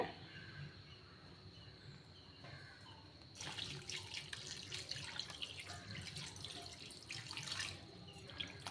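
Running water splashes steadily as mutton with rock salt and turmeric is rinsed and swished by hand, growing louder and busier partway through, with no voices.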